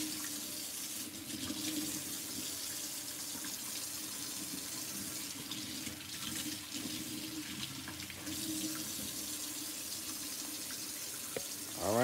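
Tap water runs steadily into a kitchen sink while trumpet parts are rinsed, a continuous close hiss and splash lasting the whole stretch with slight shifts in flow and no talking.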